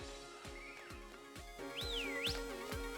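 A character whistles in the Pokémon Scarlet game, with two rising and falling melodic whistle phrases, the second louder, over a steady beat of repeated rhythmic thumps in the background music.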